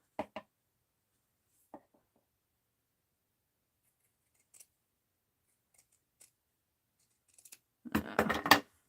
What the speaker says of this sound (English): let me trim this just a teeny bit to fit the body